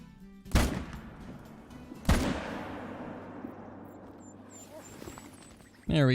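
Two loud rifle shots, about a second and a half apart, ring out near a whitetail buck in a Call of the Wild hunting game, each trailing off into a long echo before a short sharp noise at the end.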